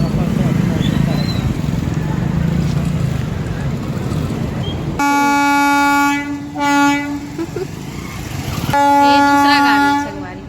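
A train passes close by at a closed railway level crossing: a loud, continuous rumble of wagons, then two long, blaring horn blasts, with people talking over the din.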